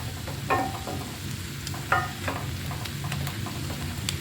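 Chicken fritters fry in oil in a pan, a steady close sizzle with occasional stirring clinks and scrapes, moderately quiet, no voices.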